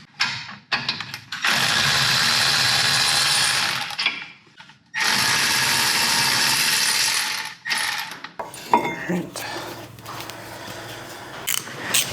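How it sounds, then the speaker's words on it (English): An electric ratchet spins out a brake caliper bolt on a Volkswagen Golf Alltrack during a brake job, giving two long, loud, steady buzzing runs separated by a pause, then shorter bursts and clicks. "I'll use my electric ratchet to remove it the rest of the way"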